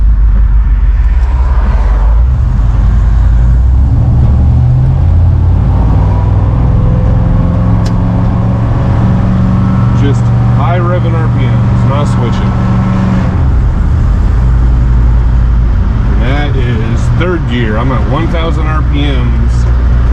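Chevy OBS race truck engine pulling through the gears on the road, a loud low drone rising and falling in pitch with shifts and revs, someone talking over it throughout.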